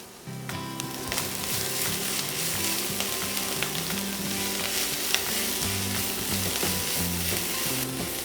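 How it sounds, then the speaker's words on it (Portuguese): Shredded cabbage sautéing in a pan as the filling for a cabbage and egg pie, a loud continuous sizzle and crackle with scattered stirring clicks, close up and without any voices. "O repolho também já está bem refogado, ele já diminuiu bastante de volume."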